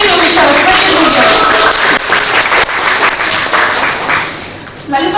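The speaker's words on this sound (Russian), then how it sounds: "Аплодируем еще раз, аплодируем." Audience applause at a Lithuanian culture day event after a young girl's performance, dense and steady with some voices and a host talking over it, fading slightly near the end.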